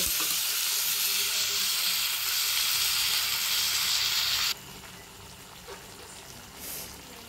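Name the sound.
spice paste sizzling as it is added to a hot wok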